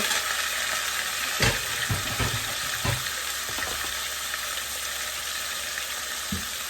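Bean seeds frying in a pan with oil, a loud continuous sizzle broken by scraping stirs from a spatula, close and busy throughout.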